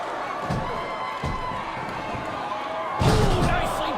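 A women's wrestling sling blade slam at a WOW event, with heavy thuds on the ring mat, the loudest near the end, amid crowd noise and commentary.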